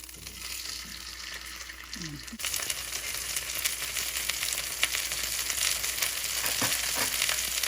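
Potatoes frying in hot oil for a chicken steak dish make a dense, steady crackling sizzle close by, swelling louder partway through and running continuously, with a faint voice in the background near the start.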